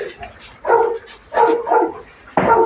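Dogs bark and yip in short bursts, about four close, mid-loud barks spaced unevenly across the moment, with a whimpering edge; no one speaks over them.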